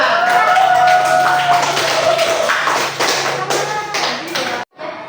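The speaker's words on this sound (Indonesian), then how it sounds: "Tepuk tangan." Hand clapping in a classroom or training session, a run of taps and claps over a sustained tone and some voice, fairly close and loud, breaking off abruptly near the end before a brief quieter tail.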